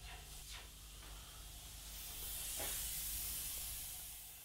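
An airbrush sprays Payne's Grey paint over a black surface while a skull is painted, giving a steady airy hiss that swells in the second half, with a few brief bursts, close and alone without speech.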